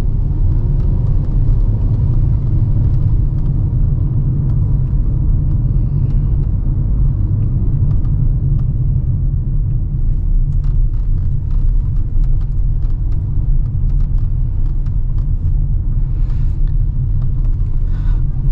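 Steady low rumble from a 2023 Kia Stonic with a four-cylinder engine and traditional automatic transmission while driving, a continuous close drone of engine and road noise with faint light rattles on top.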